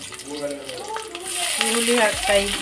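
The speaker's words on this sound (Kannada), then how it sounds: "ಬೆಳ್ಳುಳ್ಳಿ ಹಾಕ್ತಾಯಿದ್ದೀನಿ" Garlic drops into a pan of frying onions and spices for a masala bean curry, sizzling and crackling up close with some stirring.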